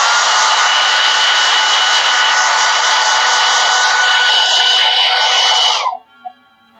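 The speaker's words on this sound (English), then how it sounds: "I'm going to get my hair dryer out real quick to make sure it's dry" A hair dryer blows steadily and loudly over a painting to dry the paint, a constant airy whir that runs for about six seconds before cutting off abruptly, followed by a faint click.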